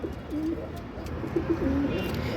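Domestic pigeons coo close by, a few soft, low rolling calls in two short bursts over a faint background hum, with no voices.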